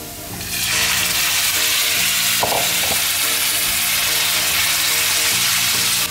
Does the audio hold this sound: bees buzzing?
no